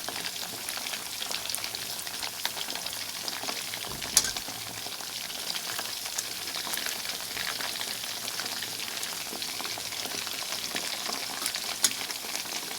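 Floured chicken drumsticks fry in hot oil, producing a continuous, even sizzle with scattered small pops and one sharper crackle, steady and close throughout.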